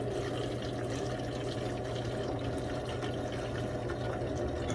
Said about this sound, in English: we're just going to go nice and slowly and pour it right into my old bottle